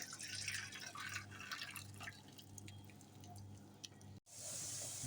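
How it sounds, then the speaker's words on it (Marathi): Water trickles and drips softly as it drains away from cooked rice for vegetable biryani, faint and close, ending in a brief gap and a sudden hiss. "आता याच्यातलं पाणी काढून घेऊया आपण"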